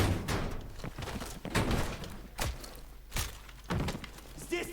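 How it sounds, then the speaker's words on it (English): A door being opened in a Call of Duty: Black Ops Cold War campaign mission, a series of heavy thuds and clunks with some scraping and rattling, moderately loud. "Open the door."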